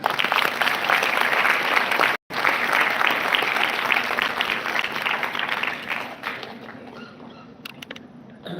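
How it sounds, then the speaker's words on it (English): Audience applause for a speaker at a school Independence Day declamation contest, a steady wash of many hands clapping that holds strong and then gradually thins and fades toward the end. "May I have a round of applause to the madam?"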